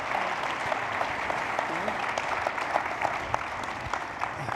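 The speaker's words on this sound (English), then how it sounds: "now applause, ladies and gentlemen" An audience at a waste-industry conference applauds in a continuous, even wash of clapping that carries from a moderate distance and holds without any talk.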